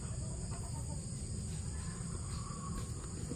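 Chickens, young birds about five to seven months old, cluck and cackle faintly through steady background noise and insect buzz, with no talking.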